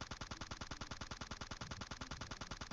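Rapid automatic gunfire from an M416 assault rifle in PUBG Mobile on the Sanhok map, a dense, loud, evenly spaced string of shots running unbroken through the whole moment with no voices.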